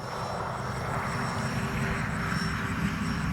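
An OV-10 Bronco model warbird airplane takes off at full throttle, its engine holding a loud, steady, close drone throughout with no voices.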